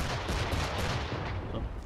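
Cannon fire and battle noise in the video game Assassin's Creed 3 Remastered during a ship fight, a dense, loud roar of booms and blasts running continuously without pause.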